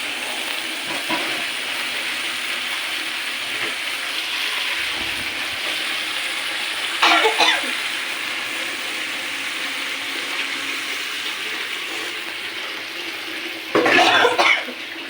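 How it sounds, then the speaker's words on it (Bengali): Water goes into potatoes cooking in a spiced pan, leaving a steady hissing simmer up close, with two louder rough bursts partway through that sound like coughing. "পানি দিয়ে দেই সেটি হোক"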